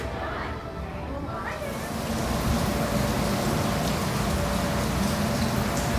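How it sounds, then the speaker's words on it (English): Heavy rain pouring down on a Disney cruise ship in Florida in a steady hiss that grows louder and denser after a couple of seconds, with a faint voice in the background. "it's not raining, it is pouring down"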